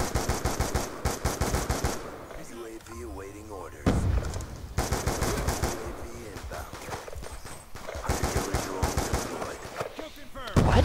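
Rapid bursts of gunfire from the 5.7 pistol in Call of Duty Black Ops 2 crackle in fast repeated volleys, loud and close, with game voices talking in between.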